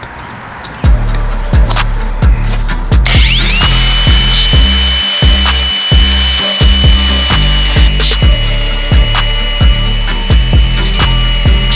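Ratchet wrench working a nut loose on a Z31 300ZX during widebody kit work: a close, loud run of quick clicking pawl strokes in steady bursts, with a sustained whine in the background and no talking.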